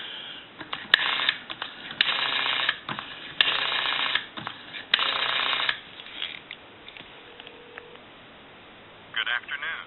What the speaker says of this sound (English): And I'll go ahead and dial